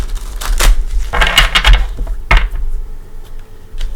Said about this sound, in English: I'm just going to do a shuffle.